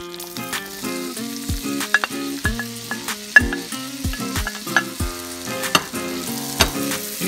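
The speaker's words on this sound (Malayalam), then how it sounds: "ആദ്യം ഒരു 25 ഗ്രാം ബട്ടർ ഞാൻ ഒഴിച്ചിട്ടുണ്ട്. ഇനി ആ ഒനിയൻ അതിലേക്ക് ഇടാം." Chopped onion hitting 25 grams of melted butter in a hot pan for caramelizing, a steady sizzle broken by repeated scraping and stirring clatters, close and fairly loud with no voices.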